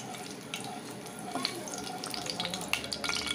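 Oil and ghee heat in a wok for making rice, giving a soft crackling and spitting with scattered sharp pops that grow slightly busier toward the end, fairly quiet and close.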